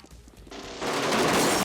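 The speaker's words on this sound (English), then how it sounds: "a fucking machine gun" Burst of machine gun fire in the opening action scene of Beverly Hills Cop 3, a dense, loud rattle that builds from a quieter lead-in into sustained, crashing gunfire with no voices.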